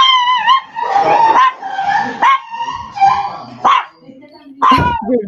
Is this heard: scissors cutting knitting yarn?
no